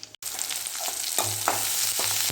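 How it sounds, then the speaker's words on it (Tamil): Fenugreek and mustard seeds splutter in hot groundnut oil, a close, rising sizzle dotted with sharp little pops and crackles, no speech. "கடலெண்ணெய் ஊற்றி வெந்தயம் கடுகு போட்டு பொரிஞ்சிட்ருக்குது"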